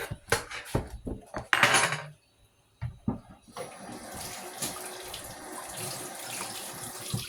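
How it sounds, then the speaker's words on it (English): Tap water rinsing a cutting board in a home kitchen sink, with knocks and clatter of the board at first, a brief pause, then a steady stream of running water, close by. "Rinse the board off and come again"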